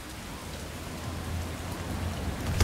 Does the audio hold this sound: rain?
yes